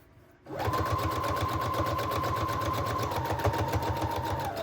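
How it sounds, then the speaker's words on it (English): A sewing machine runs a steady straight stitch around a patchwork junk journal, its needle hammering in a fast, even mechanical rhythm close by after a short quiet start, with no voices. "I am just using a straight stitch right now"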